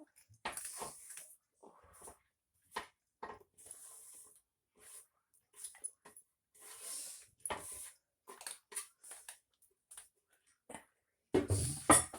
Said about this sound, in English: I'm putting the onions now.